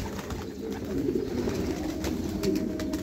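Pigeons coo in Quetta as a steady, moderately loud murmur that continues throughout with no talking.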